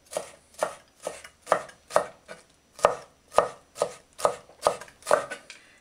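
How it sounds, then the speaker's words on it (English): A knife chops seeded peppers finely on a cutting board while tabbouleh is being made. About a dozen crisp, close strikes fall in a steady, even rhythm with no talking. "Now I'm done with chopping peppers."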